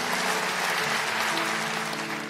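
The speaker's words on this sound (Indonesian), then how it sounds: "kasih tepuk tangan untuk Tuhan." A church congregation claps together in steady, dense applause that fills the room, continuous throughout with no speech over it.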